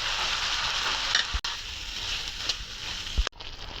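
Turmeric and chili powder frying in a hot pan while being stirred for a spicy dish, giving a steady, close sizzle with occasional spoon knocks against the pan.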